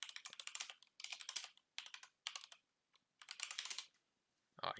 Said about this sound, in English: You need to type in download Epic Games Launcher